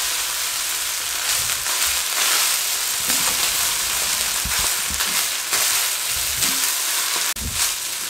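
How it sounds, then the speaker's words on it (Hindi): Chicken fajita rice sizzles steadily in a pan over a medium-low flame while it is stirred and mixed, with occasional scraping knocks from the spoon. The frying is close and continuous, and no one speaks. "मीडियम टू लो फ्लेम करके इसको 3 मिनट इस तरीके से मिक्स करके कुक करेंगे।"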